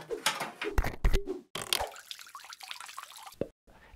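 Water coolant drains from a water-cooled PC workstation, a close, uneven stream of splashing and trickling liquid with irregular gurgles and brief pauses.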